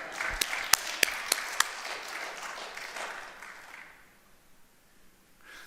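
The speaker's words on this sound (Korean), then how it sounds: "박수 한번 하시죠." Congregation applause during a church sermon, a few sharp close claps ringing out over a softer wash of clapping that fades away toward silence.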